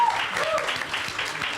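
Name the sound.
audience applause for the panel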